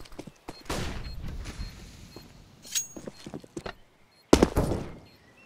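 A flashbang grenade is thrown in Counter-Strike: scattered thuds, clicks and short bursts amid quiet game ambience, ending with a single loud, sharp blast near the end.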